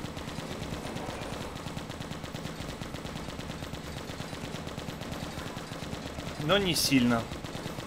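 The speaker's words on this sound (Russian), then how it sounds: "Пулемет сейчас чуть-чуть помощнее." Rapid machine gun fire from a zombie-shooter mobile game runs steadily through the clip, with a short bright synthetic effect flaring near the end while someone talks over the shooting.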